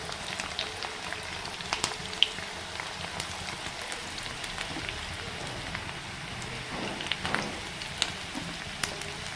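Banana flower pakoda sizzles in hot oil, a dense, steady crackle with scattered sharper pops, fairly close, with no voices throughout.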